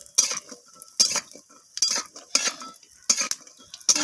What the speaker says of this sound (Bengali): কাঁচা বাদাম আর কয়েকটা বড়ি দিয়ে দিলাম। তো দুটোকে আমি একটু ভাজা ভাজা